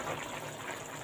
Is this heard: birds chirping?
no